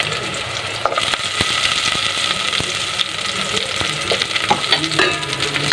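Garlic sautéing in a pan for a milkfish (bangus) dish, a steady close sizzle with scattered clicks of a utensil stirring against the pan, running continuously without talk.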